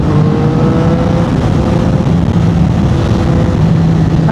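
Triumph Tiger 800 three-cylinder motorcycle under way on twisty roads, its engine a continuous close, loud drone with wavering pitch as the throttle shifts, heard alone without talk.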